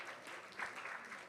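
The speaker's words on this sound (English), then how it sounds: "Can we have a round of applause for the winners?" A brief round of applause for the winners at a hackathon finale event, a soft, distant patter of clapping from an audience.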